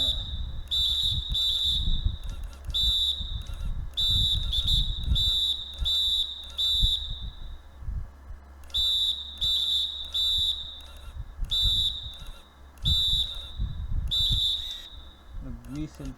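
Repeated shrill referee whistle blasts in the NBA 2K24 basketball video game, Bulls at Timberwolves, come in bursts of short toots over low crowd and game rumble across the stretch.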